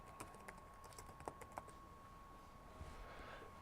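Keys are tapped on a computer keyboard while a search is entered into a Windows Control Panel, giving faint, light, irregular clicks in a short run over a quiet hum.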